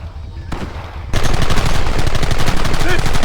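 Rapid gunfire erupts in a Red Dead Redemption shootout, with a few shots followed by dense, continuous bursts of loud cracking fire that dominate the scene.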